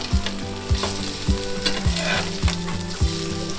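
Eggs frying on a hot tawa for an egg pepper fry, sizzling loudly and steadily after being flipped, with a regular series of spatula scrapes and taps.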